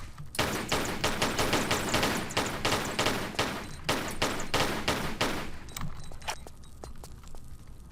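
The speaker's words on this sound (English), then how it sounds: "I think it's better to use the pistols against those bats" Rapid pistol gunshots are fired at bats in the Tomb Raider 4 video game, a dense run of sharp, evenly spaced cracks that continues for several seconds and then thins out to a few scattered shots.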